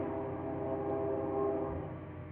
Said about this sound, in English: If you hear that train, that's just the train coming through in the background.